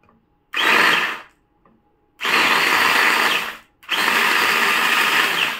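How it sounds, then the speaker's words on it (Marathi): Electric mini crusher chopping chillies and garlic in a home kitchen, three loud whirring bursts of motor noise, the first short and the last two longer, with brief silent pauses between them. "सो त्यातलं हे एक गॅजेट आहे, ते म्हणजे मिनी क्रशर। सो मी आता हे चालू करते।"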